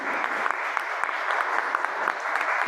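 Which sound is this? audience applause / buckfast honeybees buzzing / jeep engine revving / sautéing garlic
audience applause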